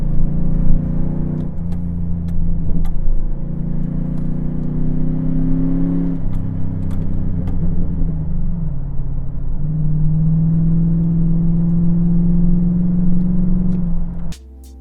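A Chevrolet TrailBlazer SS with a 400 hp LS2 V8 accelerates, a loud close engine drone rising in pitch through the gears with shifts in between, then cutting off at the end.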